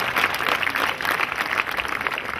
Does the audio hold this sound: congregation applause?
yes